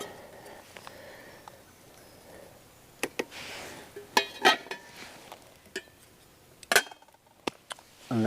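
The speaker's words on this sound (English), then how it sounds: "So I'll put my dinner on top. I use the frying pan as a lid." Scattered metallic clanks and clinks of Trangia camping cookware outdoors, a few sharp knocks as a frying pan is set as a lid on another pan, with quiet rustling between.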